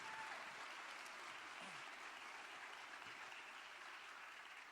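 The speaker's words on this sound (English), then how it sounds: "Can we just give them one more round of applause" An audience at the 2024 Alabama Humanities Fellows event applauds, a continuous, fairly faint patter of many hands clapping that holds steady from start to finish.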